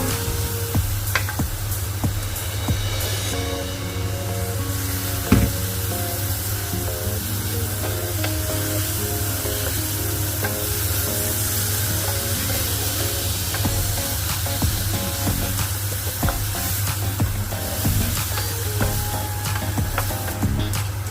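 Spice masala fries in a pan as water is added bit by bit for a fish head and potato curry, giving a continuous dense sizzle and hiss with faint stirring clinks, steady and close throughout.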